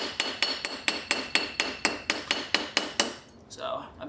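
Sharp metallic hammer blows strike germanium silver on a cheap anvil, about eleven evenly paced ringing taps close by, followed by a brief quieter pause.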